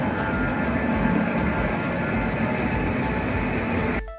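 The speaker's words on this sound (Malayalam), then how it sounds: "ട്രെയിൻ നമ്മുടെ പ്ലാറ്റ്ഫോമിൽ എത്തിയിരുന്നു" A train pulls into a station platform with a steady, loud, broad rumble that fills the whole stretch and eases off right at the end.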